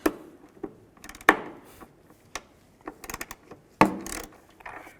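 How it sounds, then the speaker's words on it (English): A ratchet wrench with a 13mm socket turns a bolt on the battery hold-down of a 2003–2007 Cadillac CTS, giving irregular clicks and short ratcheting bursts close up with no talking. "Let's try a ratchet wrench."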